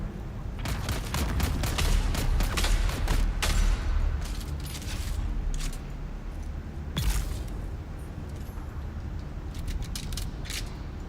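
Gunfire in Dune Awakening, a dense burst of rapid shots up front with scattered sharper reports after, set against a rumbling desert backdrop with mechanical clatter.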